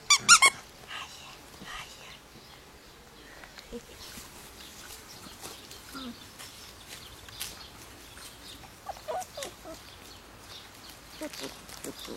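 Sharp squeaks of a dog toy at the start as six-week-old Biddy x Dale puppies play, followed by softer scattered rustles and small squeaks, with a person's voice nearby.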